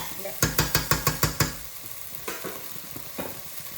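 Rice being fried in a pan, with a quick series of about eight sharp scraping or stirring strokes, then a quieter sizzle broken by a few scattered clinks.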